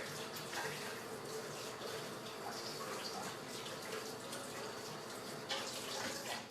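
Hands scrubbed under a running tap, a steady close gush of water with splashing and rubbing, moderately loud throughout with no talking.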